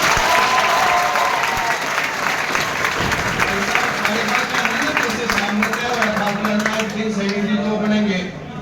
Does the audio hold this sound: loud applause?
yes